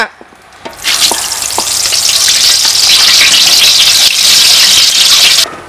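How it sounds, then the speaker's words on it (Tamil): Mustard seeds hit hot oil in a large pot for a village wedding feast, bursting into a loud, continuous sizzle that holds for several seconds before cutting off abruptly, with no talk. "என்ன சூடாயிடுச்சு கடுகு கொடுத்து போட்டுக்கிறோம்"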